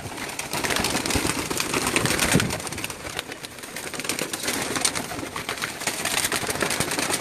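Pigeons on a rooftop loft in Jeddah, Saudi Arabia, give a busy, continuous mix of cooing and rustling at moderate distance, with soft flutters and outdoor background noise.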